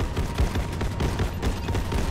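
Artillery and heavy gunfire in the real-time strategy game Halo Wars 2, a dense, continuous barrage of thuds and bursts rolling on without pause, fairly loud throughout.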